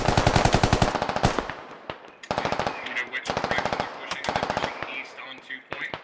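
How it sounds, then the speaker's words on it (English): Rapid automatic gunfire from the Squad video game plays in repeated loud close bursts with brief gaps, sharp rattling volleys dominating throughout. "The rest of his fire team still stuck in the field, but Hovis is getting shot."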